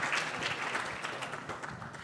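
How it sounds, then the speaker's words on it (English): Audience applause at a conference session, a fairly quiet, steady patter of many hands clapping from across the room. "Big round of applause for Kerry Entrepreneur."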